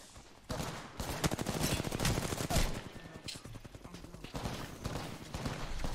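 Sustained video-game gunfire crackles through a rapid, rhythmic stream of shots with several weapons overlapping, fairly steady and busy throughout, with no speech.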